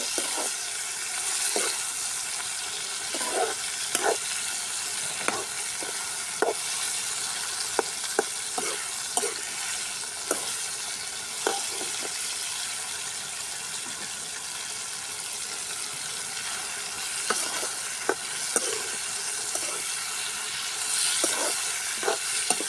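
Ingredients for a drumstick tamarind curry sauté in oil, with a soft, steady sizzle and hiss and scattered spatula scrapes and taps at an even pace, fairly close but quiet.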